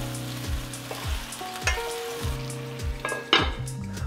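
Butternut squash, celery and crushed garlic cooking in a pan, a steady sizzle under repeated rhythmic knocks and clinks of utensils against cookware, close and moderately loud.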